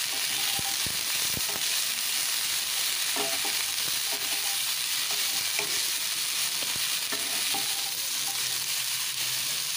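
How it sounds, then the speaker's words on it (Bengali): Broccoli is stir-fried in a wok, a constant loud sizzle punctuated by irregular metallic scrapes and taps of the spatula against the pan, close and unbroken by speech. "এবার ব্রোকলিগুলোকে একটু নাড়াচাড়া করে ভেজে নিচ্ছি।"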